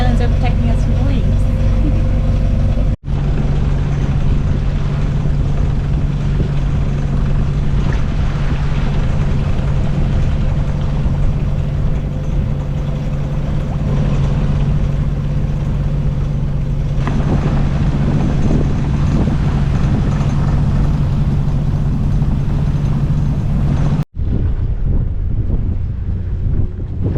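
A sailboat cruises at about 8 knots through flat, calm water sheltered by islands in Alaska, giving a continuous low engine drone with steady wind buffeting the microphone from start to finish.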